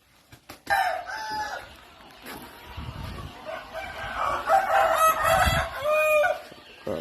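A rooster crows loudly nearby, followed by more crowing and clucking chickens in a busy farmyard.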